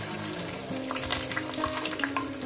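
Beaten eggs mixed with onion and green chili frying in a pan for a masala omelette, giving a steady close sizzle with scraping stir noises on top and no talk.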